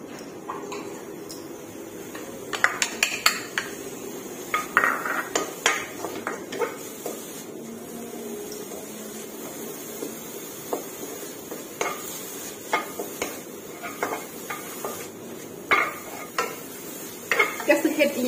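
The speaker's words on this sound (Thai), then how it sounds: "หลังจากนั้นคั่วพริกให้หอมค่ะ" Chilies dry-roasting in a pan, with frequent scraping and clinking stirs of a utensil against the metal over a faint sizzle, repeated at an irregular rhythm throughout.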